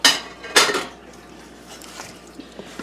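Rice and goat meat are stirred in a metal pot, with two sharp scraping clanks of the spoon early on, followed by quieter shuffling and a few light knocks.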